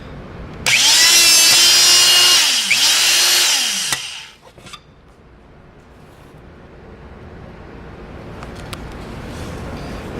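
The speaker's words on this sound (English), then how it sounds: "we're gonna do another cut on a little bit slightly thicker piece of material" An MHP-20 electric hydraulic hole punch working a slightly thicker piece of material gives a loud, close whine with a rising and falling motor tone for about three seconds, then cuts off, leaving a few faint clicks and low room noise.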